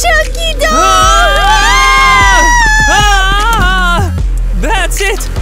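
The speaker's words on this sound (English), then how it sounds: "Oh, kids, why are you screaming here?" Children screaming and shouting in a loud, continuous, high-pitched chorus at a beach game, with overlapping voices rising and falling close by throughout.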